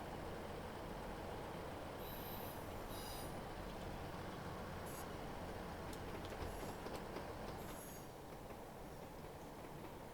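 A Class 159 diesel multiple unit runs along the Wessex Main Line in Train Simulator Classic, a steady rumbling rail roar with brief high wheel squeals and clicks, continuous and fairly loud, with no speech.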